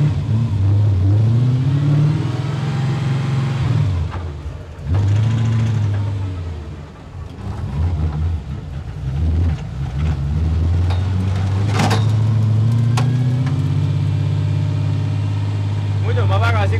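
A VAZ 2105 racing car engine revs in several loud, close bursts, dropping between them to a rough idle, with a sharp clunk partway through.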